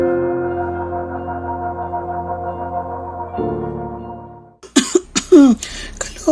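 A parent coughs repeatedly in short rough bursts, close and fairly loud, after a stretch of soft sustained background tones.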